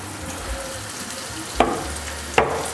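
Thin pork escalopes fry in a hot pan, a constant steady sizzle broken by two sharp spatters of oil, close and alone with no talking.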